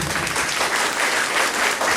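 Loud, steady applause from a crowd at a Safe Shop Direct gathering, continuous dense clapping filling the whole moment with no talk over it.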